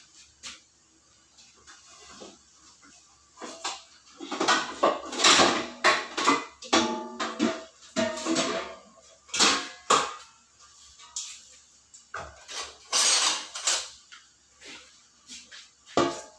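Glutinous rice flour dough, seasoned with a pinch of salt, is worked in a bowl, giving irregular scraping and knocking bursts with quiet gaps between them, close and fairly loud.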